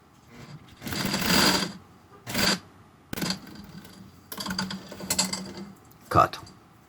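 A sewing machine stitching a fabric face mask runs in several short bursts of fast, rattling whir with brief pauses between them, sitting close and clear.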